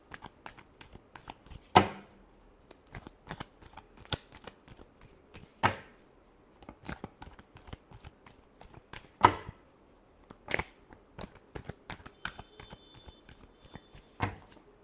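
Tarot cards being shuffled by hand, a series of crisp riffling slaps and soft flutters in an irregular rhythm, close and moderately loud with no talking.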